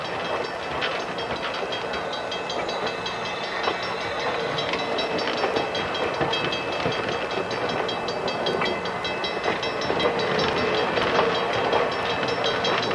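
A passenger train on the Halifax to Truro line rolls past with a continuous rumble, rattle and clickety-clack, joined by some hiss. The sound is moderately loud and steady throughout, with no voices.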